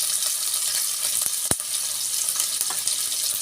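Chopped onion, green chili and curry leaves sauté in a hot pan for a chicken dish, giving a steady close sizzle with light stirring scrapes and one sharp clink of a utensil midway.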